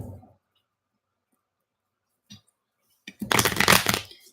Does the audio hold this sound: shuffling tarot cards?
yes